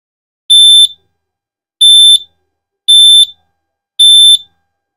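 CrossFit box interval timer sounding its countdown without a capacitor fitted: four short, loud, high electronic beeps at an even pace of roughly one per second, with silence between them.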